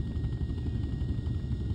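A helicopter in a video game gives off a steady, dense low rotor and engine rumble that holds even and continuous throughout the brief moment, with no voices.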